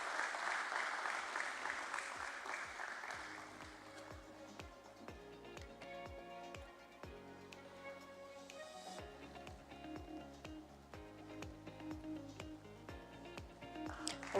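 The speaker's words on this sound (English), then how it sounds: "Let's welcome both of them with a round of applause" An audience at a closing bell ceremony at the Bombay Stock Exchange bursts into loud, sustained applause that swells and then settles into steady clapping under music.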